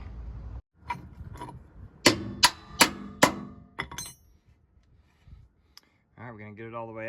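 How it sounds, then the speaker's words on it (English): Sharp metal-on-metal hammer strikes on a leaf spring bolt of a first-generation Nissan Xterra ring out close and loud, about five evenly spaced blows, followed by quiet shuffling and someone talking briefly. "now I have to hammer it out"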